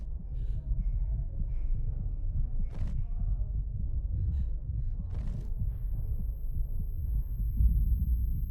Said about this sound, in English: We come straight in with this fast, quickened heartbeat